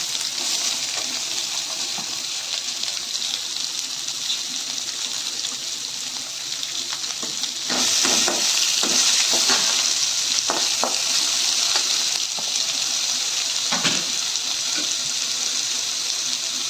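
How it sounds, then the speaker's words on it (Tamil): Chana dal, onion and chillies fry in hot oil for a potato masala, a loud continuous sizzle close by, with the spatula scraping and stirring in bursts partway through, and no voices. "எல்லாமே எண்ணெயிலே போட்டு ஒரு நிமிஷம் வதக்கிக்கலாம்"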